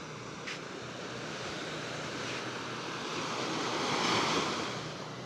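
Sea waves wash steadily onto a beach at Lobo, Batangas, Philippines, a broad continuous hiss of surf swelling gently louder toward the end, with some wind noise and no voices.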